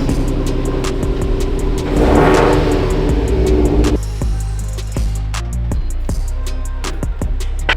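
Subaru engine revving hard with wheels spinning, a loud sustained roar that swells in the middle then settles into a rough idle with sharp ticking clicks.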